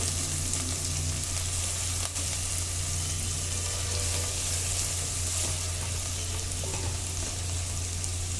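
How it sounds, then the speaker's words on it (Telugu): Onions sizzle steadily in a pan as they fry toward golden, a dense continuous crackle with a low hum underneath, no talking. "ఈ విధంగా ఉల్లిపాయ కలర్ చేంజ్ అయ్యే వరకు కూడా వేయించుకోండి"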